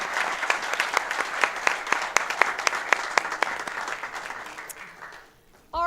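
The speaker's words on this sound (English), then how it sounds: "Another fabulous round of applause to the both of you." A room of people at a board of education meeting claps with crisp, steady applause that gradually fades out, then a voice begins speaking right at the end.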